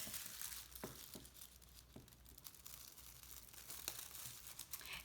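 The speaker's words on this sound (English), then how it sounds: "now I'm going to cut the bag into strips using these marks as" A plastic bag is cut into strips with scissors, giving faint, close crinkling and rustling with a few sharp snips and crackles.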